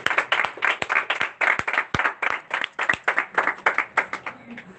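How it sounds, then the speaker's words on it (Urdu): A congregation applauding for Jesus Christ during a church service: a burst of loud, fairly rhythmic hand clapping, the claps close and crisp, sustained throughout. "سو یسوع مسیح کے لیے ایک بار زوردار تالی"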